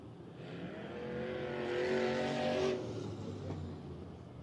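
Race cars on a dirt speedway rumble and rev together, swelling louder mid-clip as engines build, then easing back to a steady roar.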